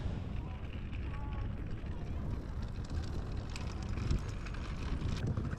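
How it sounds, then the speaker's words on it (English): Steady wind buffets the microphone, a broad low roar that continues unbroken, with a voice faintly audible beneath it. "it's been quite windy"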